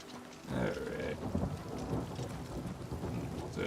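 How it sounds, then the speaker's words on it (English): Thunder rumbles under steady rain falling on surfaces as a storm rolls in within the video game Oblivion Remastered, a dense, close outdoor wash with no voices. "The storm's starting to roll in."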